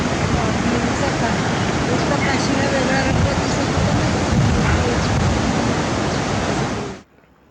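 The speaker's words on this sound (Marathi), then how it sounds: "हा 2 नद्यांचा संगम आहे तिथे." A loud, continuous rush of river water at the confluence of two rivers in the Bhutan mountains fills the air, then cuts off abruptly near the end.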